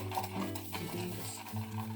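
Chopsticks stir and scrape ingredients in a bowl, used in place of a whisk, giving a close, steady clatter that keeps going through the whole short stretch with no talking.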